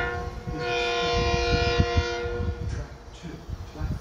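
Long Island Rail Road M9 commuter train, cars #9021 and #9020, arriving at Cold Spring Harbor station on the evening run to Huntington, with a sustained loud horn over heavy rumbling wheels and rail noise.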